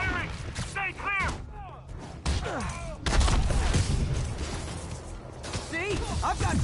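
Gunfire in the Spider-Man video game, with several sharp bursts and heavy impacts breaking through a busy battle mix, while voices call out over the action.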